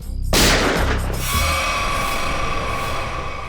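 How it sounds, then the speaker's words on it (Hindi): A single loud, sharp gunshot bursts out near the start and decays into a sustained rumbling roar, with no voices over it. "गोली चली क्या?"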